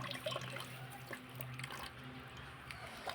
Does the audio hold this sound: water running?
yes